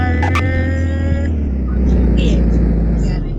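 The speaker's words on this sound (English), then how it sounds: "I'm just going to park my car" Car being parked on a road trip to the beach in Indonesia: a steady low engine rumble runs throughout, loud and close, with brief clicks early on and faint higher tones above it.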